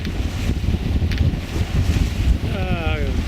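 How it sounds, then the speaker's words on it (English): Wind gusts buffet a sailboat moving at about ten knots, a loud, constant rushing roar close to the microphone, with a brief wavering whine near the end. "before the next gust knocks me over"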